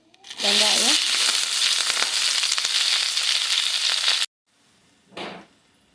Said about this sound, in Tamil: எண்ணெய் சூடானதும் கொஞ்சம் சோம்பு நல்லா பொரிஞ்சதும்